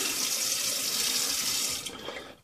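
A bathroom tap runs in a steady, close, loud stream to wet the face before a straight razor shave, then the flow tapers off and stops.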